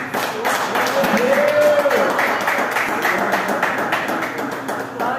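A church congregation applauds loudly and continuously, the dense clapping running under a voice that speaks or calls out over it.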